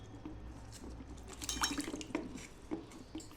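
Faint splashing and dripping of water as green chillies are rinsed by hand, with small irregular trickles and light clinks close by, quiet throughout and no talking.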